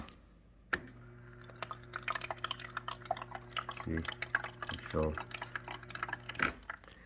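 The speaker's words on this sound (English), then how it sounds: "But it's going to fill up with water." Water trickles and drips from the fill tube of an LG refrigerator icemaker, soft liquid drips and small splashes under someone talking close to the microphone.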